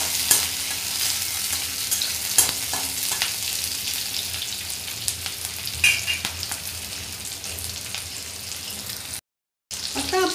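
Fenugreek leaves for methi bhaji sauté in a pan with a steady close sizzle and repeated scraping stirs, a brief gap of silence near the end before the frying resumes.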